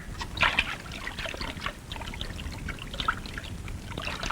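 Water pours and trickles from a metal pot, a steady splashing stream with a few brighter clinks and splashes, close and fairly loud, with no speech.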